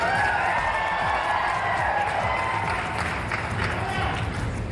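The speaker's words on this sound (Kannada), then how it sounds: "ಬಹುಶಃ ನೀವೆಲ್ಲ ಚಪ್ಪಾಳೆ ತಟ್ಟಲ್ಲಿ ನೋಡಿದ್ರೆ ನಿಮ್ಮ" Crowd applause and cheering at a political speech in Karnataka, with a dense, steady wash of clapping running throughout while a voice speaks over it.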